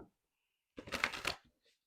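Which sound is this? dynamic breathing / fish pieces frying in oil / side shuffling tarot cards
side shuffling tarot cards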